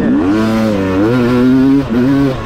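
A motorcycle fitted with a flywheel weight revs hard and close up, its loud engine note rising and holding for a couple of seconds, dipping briefly, then climbing again with no talking over it.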